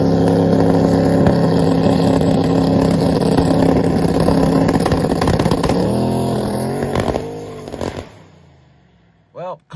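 Street racing car on a test hit, engine roaring loudly at close range with rising revving tones, then winding down and fading into near silence, followed by a brief final engine blip; a voice speaks over parts of it.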